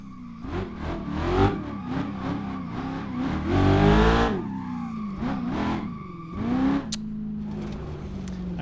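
A racing video game car engine revs and climbs hard through the gears, with a brief squeal and a rising wail near the end, loud and continuous with no talk.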